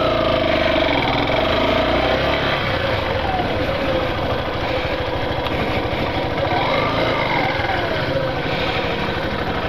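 A small motorcycle engine idles steadily nearby outside the city hall in Caraúbas, a continuous rumbling drone with a faint whine drifting above it, with no talking.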